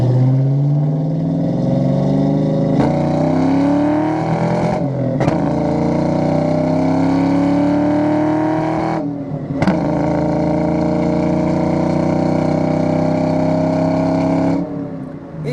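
A 1994 Ford Mustang Cobra 5.0 V8 with 26K miles under throttle on a test drive, a loud close engine climbing through the revs with brief drops at each gear change.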